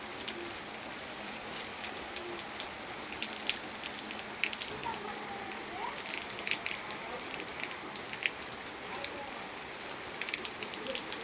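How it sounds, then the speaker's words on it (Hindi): Rain falls steadily outdoors during the Puri Rath Yatra festival, a dense continuous patter with scattered louder drops ticking throughout. "देखो पूरा वर्षा टुप टुप टुप टुप पकाऊे"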